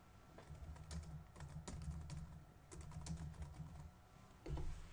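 Quiet clacking of fingers typing on a computer keyboard, in irregular bursts of keystrokes with short pauses, close by and soft, with no voices.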